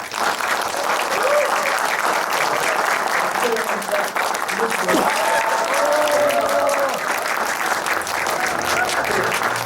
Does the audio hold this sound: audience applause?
yes